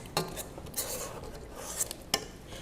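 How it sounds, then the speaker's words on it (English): A spatula scrapes a saltfish cheesecake mixture around a bowl, giving a few soft, close scrapes and light clinks against a quiet background. "Right, so we'll give it one more scrape."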